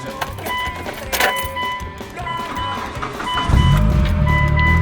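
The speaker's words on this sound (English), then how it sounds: "Now let's see if the Lancer starts up." A Mitsubishi Lancer that has sat unused for about two weeks cranks over and catches, its engine swelling into a loud, steady idle near the end, with electronic chimes and beeps from the dashboard underneath.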